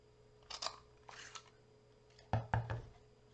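Scissors snipping a paper treat tag for a caramel apple craft, a few quiet close cuts in small pairs of sharp crisp clips separated by short pauses, in an otherwise quiet room.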